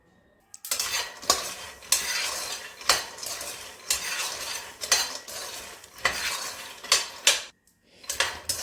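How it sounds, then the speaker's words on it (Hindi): Peanuts roasting and being stirred in a pan over a medium flame, a spatula scraping and rattling the nuts in repeated close strokes with brief pauses, no voices. "मूंगफली को भी हमने मीडियम आंच पे ही रोस्ट करना है।"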